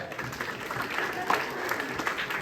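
Applause from an audience at a live mind-reading magic show, a dense, steady patter of clapping hands lasting a couple of seconds, with crowd noise and voices mixed in.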